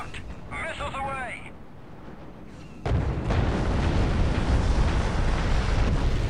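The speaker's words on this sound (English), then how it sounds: "Did it just blow up in midair and not have any debris?" Missile explosion in the video game Star Wars Republic Commando, a sudden loud burst that gives way to a sustained roaring rumble, following a brief warbling electronic tone.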